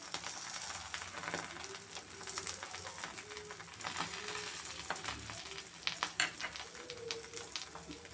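Eggs and French-fry potatoes sizzle in a pan seasoned with chilli powder, salt, green chilli and coriander, making a steady, close frying hiss that runs the whole time with light stirring knocks and no talk.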